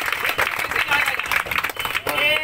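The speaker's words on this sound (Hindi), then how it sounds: "ताली बजा दो" Children clap during a street magician's show, a burst of uneven, close handclaps mixed with voices talking over them.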